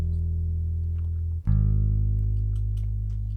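Ample Bass P Precision Bass plugin played dry with no amp, two sustained low bass notes with the second plucked about halfway through, clean, deep and ringing alone.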